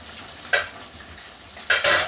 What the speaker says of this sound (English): this pot is frying up